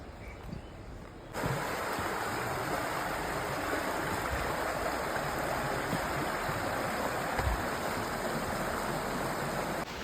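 A river stream flows steadily near a resort in Rishikesh, its broad rushing water noise close and continuous, swelling louder after the first second and holding alone with no voices.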